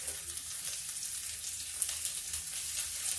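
Sliced onion sizzles and fries in a hot pan for moningay (drumstick) kadhi, with a steady bright crackle and a few stirring scrapes, close and alone without talk.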